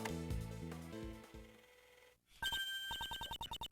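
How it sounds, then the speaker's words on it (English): A cell phone rings in the Nintendo DS game Gyakuten Kenji 2. Game music plays first, then a short pause, then a rapid electronic ringtone of repeated bright chirping pulses. "Judge Curtin's cell phone is ringing."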